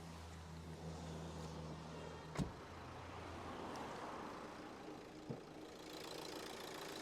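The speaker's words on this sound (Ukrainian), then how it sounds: "давайте заведемо наш автомобіль і подивимося, що у нас під капотом" A 2011 Renault Grand Scenic 1.5 dCi diesel engine idles steadily at low volume, a constant rumble with a couple of brief clunks or taps partway through; no voices.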